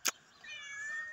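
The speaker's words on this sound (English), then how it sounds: "And look, we've located a cat." A cat meows once in a drawn-out, fairly faint call outdoors in a yard, following a short sharp click or tap at the start.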